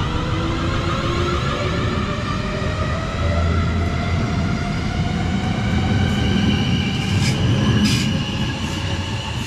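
Class 450 electric train motors whine with steady rising tones over rumbling wheels at a platform in Hampshire, with brief squeals near the end, loud and close throughout.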